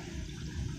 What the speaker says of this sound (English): So draining, draining, draining, draining.